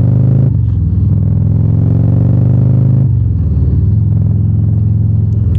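A 2024 Harley-Davidson Road Glide with a Screamin Eagle Pro Street tune and exhaust baffle, a loud, close, deep engine rumble that rises and dips while riding.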